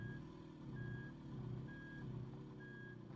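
A reversing vehicle in the video game RV There Yet beeps steadily, four evenly spaced tones over a low rumbling engine drone, fairly faint.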